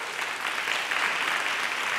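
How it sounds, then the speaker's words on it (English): Steady audience applause for a panel at a Parsons School of Design fashion event, dense continuous clapping throughout a short stretch with no voices standing out. "a round of applause for the panel"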